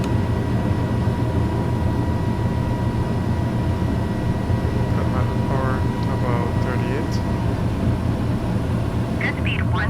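Airliner in Microsoft Flight Simulator climbing after takeoff on a flight from Cuba to Jamaica, a steady loud jet engine roar throughout, with speech heard partway through.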